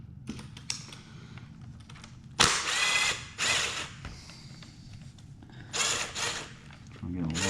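Self-tapping screws are driven in with a small tool while assembling a Traxxas Maxx RC car, heard as short whirring and ratcheting bursts, close and fairly quiet, with a voice speaking at times.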